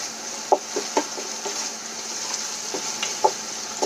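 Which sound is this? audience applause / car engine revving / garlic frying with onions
garlic frying with onions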